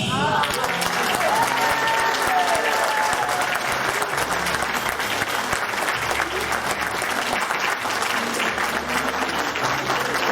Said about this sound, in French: je voudrais que l'on fasse un tonnerre d'applaudissements pour Christine